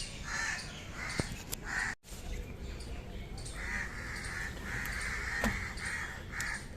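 Crows in a tree caw repeatedly in clustered bursts, fairly faint and somewhat distant, over a steady outdoor background hum.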